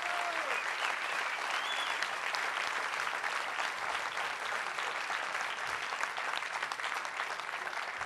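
Sustained audience applause fills an awards ceremony hall, dense, even clapping from a large crowd holding steady at full strength for about eight seconds with no speech over it.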